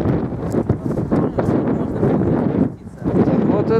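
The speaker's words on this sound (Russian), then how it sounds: "Ветер дует." Strong wind gusts roar and buffet the microphone on an exposed clifftop by an old fortress site, a steady rushing blast with fluctuating intensity and no clear speech over it.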